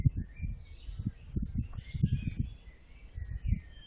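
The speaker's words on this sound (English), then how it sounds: "the birds in the background" Birds chirp and sing faintly in an outdoor background, their high calls scattered over a low, steady rumble of nearby ambient noise.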